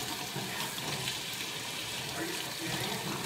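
A kitchen tap runs steadily while something is washed under it, a continuous broadband hiss of flowing water at moderate level with no break and no voices.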